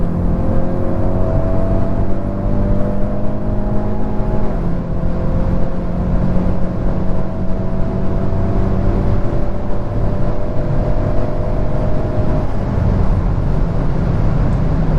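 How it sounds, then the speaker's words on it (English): Hyundai Veloster N with a dual-clutch transmission accelerating hard from 80, engine droning steadily loud with rising tones that drop at quick upshifts, heard from inside the car, no talking. "Do a quick pull for you guys"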